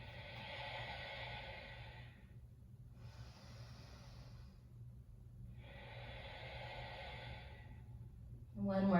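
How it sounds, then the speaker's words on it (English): Deep yoga breaths held in warrior two during a vinyasa flow: three long, slow, airy breaths close to the mic, separated by short quiet gaps, over a low steady hum. "3 deep breaths"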